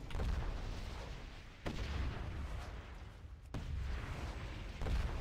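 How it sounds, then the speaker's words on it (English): Repeated blasts from a World of Warcraft fight, each a sharp boom followed by a rumbling, crackling tail, landing at roughly regular intervals, loud and close with no talking. "It's a very satisfying explosion sound."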